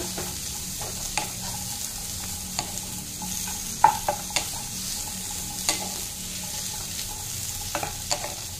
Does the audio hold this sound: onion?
yes